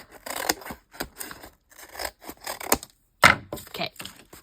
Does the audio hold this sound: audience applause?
no